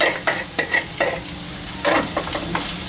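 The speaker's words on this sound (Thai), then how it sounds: "แล้วก็ทำการยีข้าวให้แตกด้วยนะฮะเข้ากัน" Rice and beaten egg stir-fried together in a pan for shrimp fried rice, the spatula scraping and tossing in quick repeated strokes over a soft continuous sizzle, close and fairly loud.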